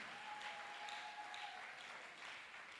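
A church congregation applauding Jesus, a sustained, even burst of clapping from many hands, moderately distant with a faint tone in the background.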